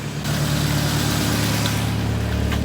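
A car engine idles steadily and loudly after a spark plug swap, with a constant low rumble and mechanical whir throughout and no pauses.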